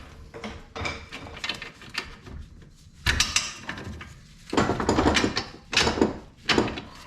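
A strut assembly is bolted to the spindle of a 2002 Toyota Camry: loud bursts of metallic clanking and ratchet-like clatter come and go, growing busier and heavier in the second half.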